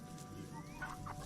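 Backyard chickens clucking softly in a garden, a few short low clucks and murmurs over a steady background hum.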